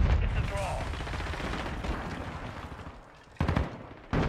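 Submachine gun fire in a video game: one long, dense rattling burst runs for about three seconds, then after a brief pause two short, sharp bursts follow.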